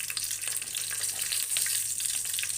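Whole spices such as cinnamon, cloves and star anise frying in hot oil for vegetable pulao, an even, bright crackling sizzle close up, continuous and without voices.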